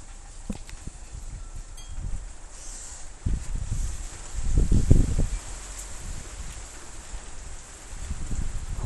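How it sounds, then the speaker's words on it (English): Outdoor wind gusting against the microphone in low rumbling surges, strongest in the middle, with faint rustling and no voices. "The wind took the incense away"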